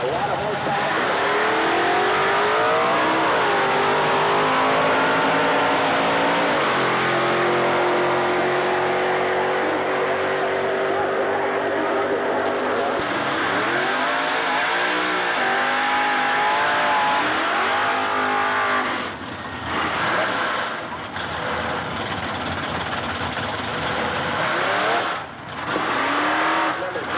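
Early-1980s drag race cars at Motion Raceway, including a Hemi car and a 1967 with a big-block 396 Chevrolet, roar loudly through accelerating, gear-shifting passes in continuous engine noise, with an announcer speaking over the racing.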